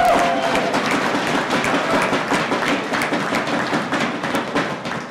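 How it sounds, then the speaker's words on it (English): An audience at a start-up competition grand finale clapping for undergraduates, dense steady applause from a crowd that gradually thins toward the end. "Give a round of applause to all the undergrads"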